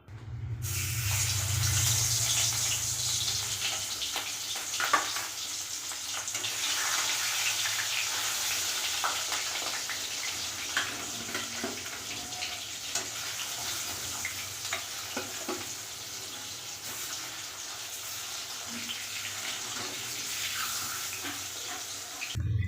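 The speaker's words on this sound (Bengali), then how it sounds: "চলো মাছটা ভেজে নিই" Rohu fish pieces frying in hot oil give a steady, close sizzle that fills the whole stretch, with occasional clinks and stirring, and no talking.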